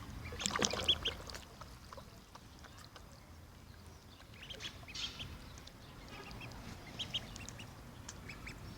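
Faint quacking from several ducks outdoors, a brief louder burst early on, then scattered softer calls over low background noise.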